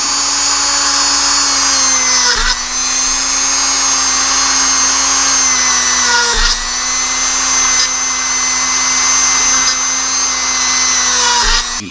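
A small power drill whines steadily and loudly close by while drilling out the grille of a 1980s NASCAR Monte Carlo model car. The pitch stays constant, with brief dips where the bit catches or eases off.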